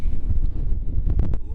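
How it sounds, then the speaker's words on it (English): Gusty wind blows across an outdoor lakeside fishing spot, with a steady low rumble and buffeting against the microphone and a few sharper gust bursts near the end. "comes the wind."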